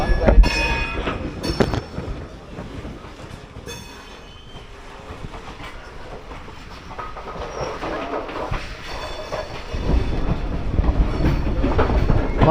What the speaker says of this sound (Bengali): এক মিনিট দেরিতে বর্ধমান থেকে ছেড়ে দিল আমাদের ট্রেন